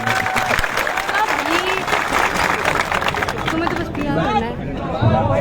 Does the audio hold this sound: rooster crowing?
no